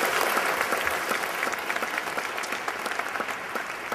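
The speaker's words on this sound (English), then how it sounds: "how about a big round of applause for Terry Moran" An audience at a keynote talk applauds, a dense, steady wash of many hands clapping that stays loud for the whole stretch and fades slightly toward the end, with no voices on top.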